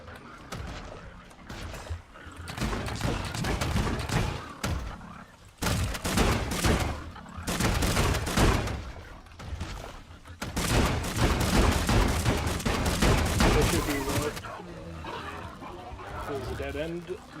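Enemies firing guns in the video game Scrap Mechanic, heard as loud, dense bursts of gunfire in repeated volleys with short gaps between them, mixed with someone talking.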